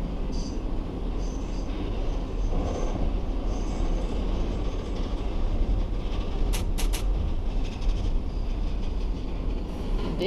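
A Manhattan-bound 5 subway train in the OpenBVE train simulator game runs steadily with a continuous rumbling roar of wheels on track, brief high squeals and clicks partway through, no talk.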